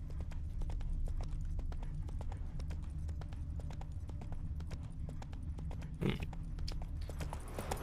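Horse hooves clip-clopping in The Witcher 3 video game, a steady run of sharp regular hoof strikes over a low continuous rumble, with one brief louder burst near the end.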